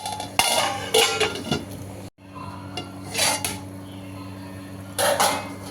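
A metal lid is set onto a cooking pot of kuruma curry, giving several close, sharp clanks and scrapes with short pauses between them and no voices.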